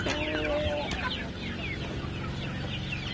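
A mixed flock of Brahma and native chickens clucks continuously and fairly close by, with overlapping busy calls and scattered short squawks that run without pause.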